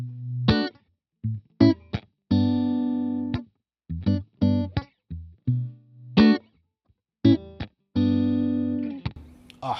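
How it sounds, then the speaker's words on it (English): A clean, dry electric guitar plays short chords and single notes with abrupt stops and silent gaps between phrases, no echo or reverb. "I'm just going to play my clean tone now without any reverb"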